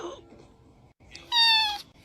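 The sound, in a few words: cat meowing in a played cat video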